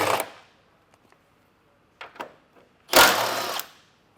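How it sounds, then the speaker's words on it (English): 12mm socket wrench on the rocker panel bolts of a 2023 Toyota 4Runner: a few faint clicks, then short ratcheting bursts and a final longer, louder ratchet run lasting about half a second. "we're going to use our 12mm socket to remove them and to set them to the side"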